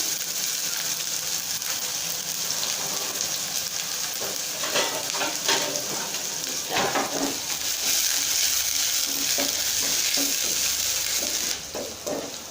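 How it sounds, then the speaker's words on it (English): Chopped onions frying in oil in a pot for a Ugandan matoke and beef stew produce a continuous sizzle, with bursts of scraping and stirring in the middle and no voices. "So I'm just going to give my onions time to cook until they're translucent"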